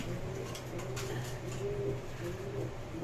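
Bombay pigeons coo in soft, low, repeated throaty calls close by, several rolling coos rising and falling over a faint background hiss, with no talking.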